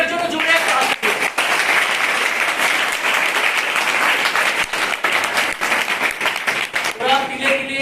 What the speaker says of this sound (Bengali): ওদের জন্য জোরে একটা হাত তালি।